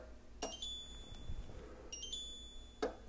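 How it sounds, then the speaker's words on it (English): A Philips electric multicooker gives short, high-pitched beeping chirps after its buttons are pressed: several quick tones early, another pair midway, in a quiet kitchen. "every time you press the menu button or select some option on the display, you get a kind of an annoying chirp"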